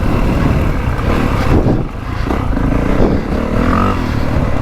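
A 2025 Honda CRF450R motocross bike's engine running loud and close at a steady high pitch on a motocross track, in map 1 with no traction control, with a brief dip in the middle.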